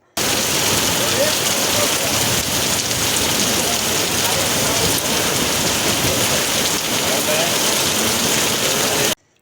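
Heavy rain pours down steadily during an outdoor patriotic rally procession in Gadag, a dense continuous hiss of water on surfaces, loud and unbroken from start to finish.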